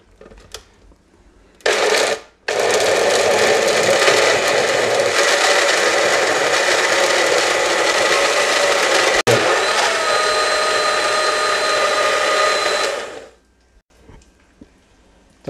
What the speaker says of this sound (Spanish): Y a moler aquí.